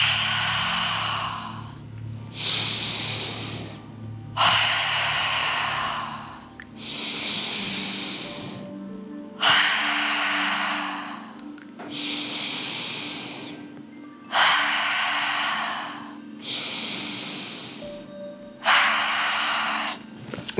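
Ujjayi ocean breathing during a prenatal yoga exercise: about five slow, audible breath cycles. Each one is a soft, hissing, sea-like rush of air in and out, close and steady, with no talking.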